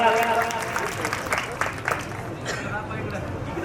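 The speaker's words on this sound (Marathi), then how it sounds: "तिच्या या कलाकृतीसाठी जोरदार टाळ्या व्हायलाच हव्यात." An audience applauds at a school ceremony honouring a student's drawing, the clapping mixed with a voice speaking over it and crowd murmur.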